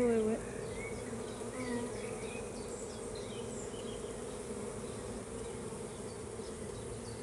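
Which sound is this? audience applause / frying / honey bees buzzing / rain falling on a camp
honey bees buzzing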